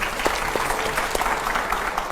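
A studio audience at a Hindi political discussion bursts into brief, lively applause for a guest, a short steady patter of many clapping hands lasting about two seconds.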